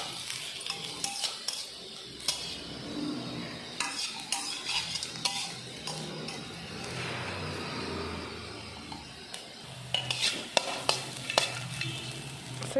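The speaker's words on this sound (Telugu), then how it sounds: "చూడండి కొంచెం కలర్ చేంజ్ అయ్యి బాగా నూనెలు మగ్గుతున్నాయి అన్నమాట." Bitter gourd slices frying in oil in a kadai, a continuous soft sizzle broken by frequent metal spatula scrapes and clinks, close but moderately quiet, with no voices.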